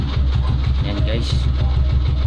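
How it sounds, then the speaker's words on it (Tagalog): A Honda TMX 125 Alpha motorcycle engine, fixed without replacing parts after failing to push start, runs as a steady close low rumble with a regular pulsing beat throughout, a brief higher whine rising briefly midway. "subukan naman natin kung mabubuhay na yung motor natin gamit ang push start"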